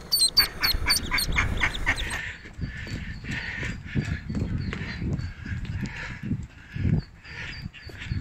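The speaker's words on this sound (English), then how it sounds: "it's Mrs. Mallard, she's looking very fine" A mallard duck quacks repeatedly outdoors by a quayside, with a quick burst of loud close calls at the start followed by scattered quacks and some background bustle.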